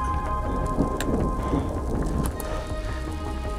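Heavy rain and rolling thunder on Mount Aragats, a volcano in Armenia, form a loud continuous wash of downpour with deep rumbling beneath and a few sharp cracks, close and unbroken.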